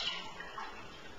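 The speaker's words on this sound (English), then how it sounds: "We're going to pour in a glass." Pulp-free orange juice being poured into a glass, a short, faint liquid trickle that runs steadily for about a second in a quiet room.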